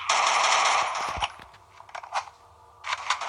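Rapid bursts of gunfire in a video game shooter crackle loudly for about a second, then scattered single shots and short volleys follow after a pause, with no talk over them.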